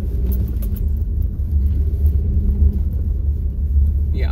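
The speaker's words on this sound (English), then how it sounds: "it is just to like drive around these potholes." A car driving slowly along a bumpy, potholed rural road gives a steady low rumble of engine and tyres with irregular thumps and rattles, heard from inside the cabin.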